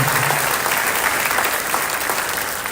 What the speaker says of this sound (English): Give me a big round of applause for Mr. Mark Mitchell.